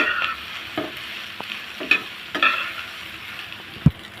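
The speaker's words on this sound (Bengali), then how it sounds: "আমি নেড়ে চেড়ে সয়া বড়িটা ভালো করে ভেজে নেব।" Soya chunks fry in mustard oil with a soft, steady sizzle while a utensil scrapes and stirs the pan in scattered taps, quiet and close, with no voices.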